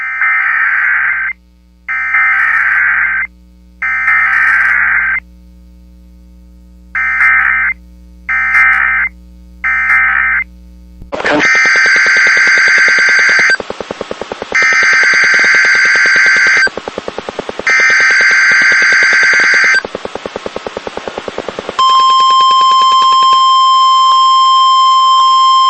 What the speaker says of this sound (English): This is the emergency alert system.